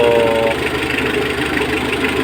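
A Mitsubishi L300 engine, its starter recently lubricated, runs steadily at a close, even idle with a constant low rumble and light knocking texture throughout.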